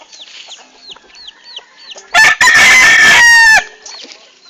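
On a farm with fighting roosters, hens cluck repeatedly in the background, then a loud, close rooster crow bursts out and holds for over a second before the clucking resumes.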